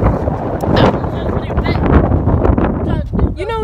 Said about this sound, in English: That wind just blew